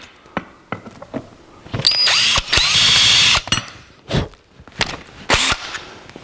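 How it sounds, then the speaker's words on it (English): A power drill with a 1/8 inch bit bores a pilot hole in metal for a steering column install on a 1949 Chevrolet gasser, with short whirring bursts between clicks and tool handling noises. "Take our 1/8" drill bit. Give ourselves a little pilot hole."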